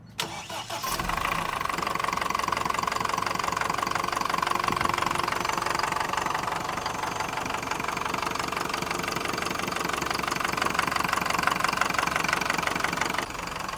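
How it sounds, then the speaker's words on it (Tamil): A Tata Marcopolo Maxicab 12+1 seater van idles with its engine bay open, giving a steady, close, evenly knocking diesel clatter that holds for over ten seconds without speech. "நம்ம இன்ஜினோட சவுண்டை வந்து ஃபஸ்ட்டு பார்த்துடலாம்"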